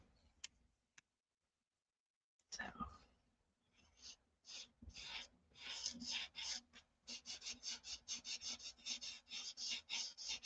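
Felt-tip ink marker in light green, with fine and chisel tips, scratching across paper in quick, rhythmic back-and-forth strokes, close and fairly quiet, with a short pause before the colouring speeds up.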